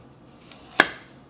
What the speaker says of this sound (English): All ingredients, let's chop it up really into small pieces because this is porridge